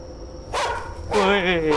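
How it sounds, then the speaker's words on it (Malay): Dog barking in the horror video game Chilla's Art The Karaoke, two short barks near the listener over a low ambient hum, with a steady tone in the background. "Woi, anjing dia. Bising lah."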